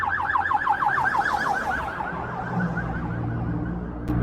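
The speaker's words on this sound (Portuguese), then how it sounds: "Vou deixar passar a ambulância aí, porque você não vai ouvir nada" A police car siren wails past in the street, a fast rising-and-falling yelp that is loud at first and then fades, over a low steady traffic rumble.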